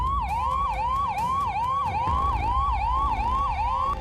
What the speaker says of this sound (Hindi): एम्बुलेंस अचानक आई